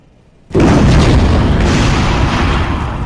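A loud explosion bursts in after a quiet moment in the Mechs & Mercs: Black Talons video game, followed by a sustained roaring rumble of fire and blasts that slowly fades.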